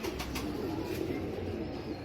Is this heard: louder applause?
no